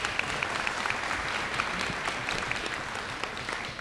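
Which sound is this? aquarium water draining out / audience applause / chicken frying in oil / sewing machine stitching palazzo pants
audience applause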